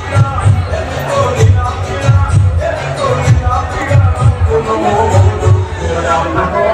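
Packed Ganpati festival crowd at Bhaveshwar Raja, a steady murmur of many overlapping voices with occasional nearer speech rising above the babble, moderately loud throughout.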